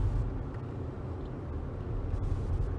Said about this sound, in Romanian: Acum am accelerat puțin.